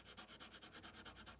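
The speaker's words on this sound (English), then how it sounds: "Like if you color both ways, it'll sound like this." Rapid back-and-forth scratching of a crayon on paper, a steady rhythmic rubbing with about a dozen strokes, close and fairly quiet.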